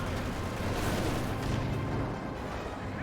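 Battlefield gunfire and artillery from an M8 Scott in Company of Heroes 2, a dense, continuous rumble of shots and blasts filling the whole stretch at steady loudness, with no talk.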